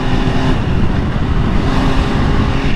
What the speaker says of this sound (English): See how this auto blip feels?